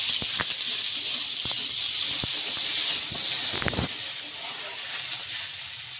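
Washed vegetables go into a hot pot with spices for a simple sour dharosh (okra) dish, giving a loud, steady close-up hiss of sizzling with a few scraping knocks and a brief burst of clatter midway.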